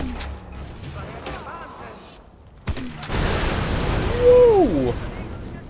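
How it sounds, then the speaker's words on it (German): Explosions and artillery fire in the video game Far Cry 4 burst out in a loud, rumbling barrage with a sharp crack partway through, followed by sustained roaring blasts and whooshing sounds. "Ich liebe diese Explosionen."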